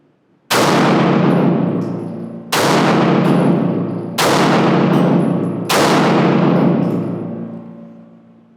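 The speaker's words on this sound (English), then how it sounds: "I'm going to start from the left and I'm going to maybe shoot 1 or 2 squares" Four loud, sharp gunshots from a firearm being zeroed with a red dot sight, fired at a paper target of squares, spaced at steady intervals of under two seconds. Each crack has a long reverberant tail and a faint metallic ring.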